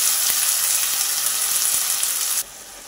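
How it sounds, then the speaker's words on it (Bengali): Curry leaves and tomato paste hit hot oil for an egg roast, producing a loud, dense sizzle close up that runs steadily, then drops sharply to a softer hiss near the end. "এগুলো এবার তেলের মধ্যে ভেজে নিতে হবে"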